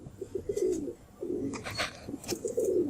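Pigeons coo softly in low, throaty bursts that repeat in a loose rhythm, with a few faint higher rustles between the calls.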